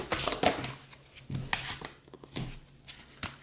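Tarot cards being shuffled by hand, close and crisp, with quick riffling bursts and soft slaps coming in irregular clusters.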